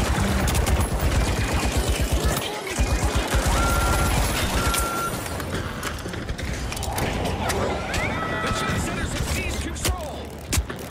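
Rapid bursts of gunfire from the video game The Finals keep cracking through dense in-game noise throughout, loud and close, layered with mechanical clanks and a few electronic beeps.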